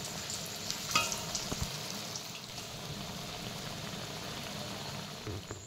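Raw banana koftas frying in oil in a wok, a continuous crackling sizzle that stays close and fairly even, with a few louder pops and no speech.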